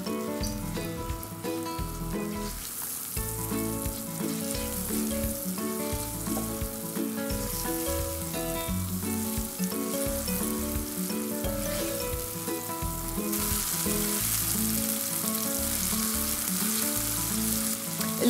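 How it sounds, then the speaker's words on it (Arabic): Onion and garlic fry in a pan with a loud, steady sizzle and crackle, rising a little louder near the end, with faint background music and no talking. "بس تدبل معنا شوي البصل والثوم هنضيف اللحمة"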